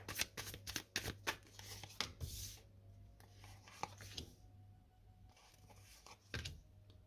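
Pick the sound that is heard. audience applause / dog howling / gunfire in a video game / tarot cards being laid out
tarot cards being laid out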